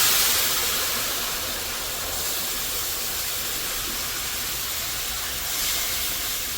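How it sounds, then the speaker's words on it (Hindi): Liquid boils in a pot on a home stove during cooking, giving a steady, fairly loud bubbling hiss that holds evenly throughout with no voices. "अब ये उबल रहा है ना,"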